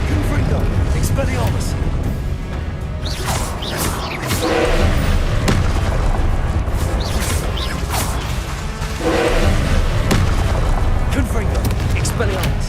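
Repeated Confringo blast spell explosions in Hogwarts Legacy, a string of loud thumps and crashes mixed with combat whooshes over dense game noise, with a voice calling out spells throughout.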